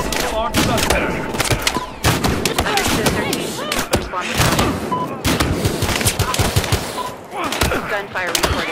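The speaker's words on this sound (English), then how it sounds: "Gunfire reported." Dense gunfire from the police shooter game Battlefield Hardline: rapid, loud bursts of shots and impacts crowd the whole stretch, with shouted voices mixed in.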